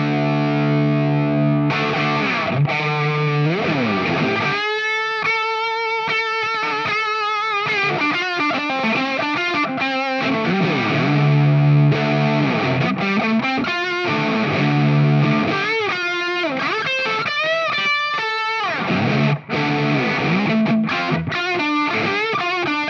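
An electric guitar runs through a Mosky Black Rat, a RAT-clone distortion pedal, playing a thick, saturated lead line of sustained bends and quick phrases, loud and continuous with no voices.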